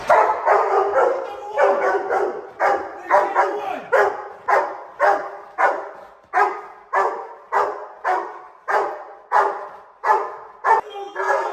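A Rottweiler barks at an intruder during a home invasion role play, loud and close, giving regular, forceful deep barks of roughly one per second that continue without a break.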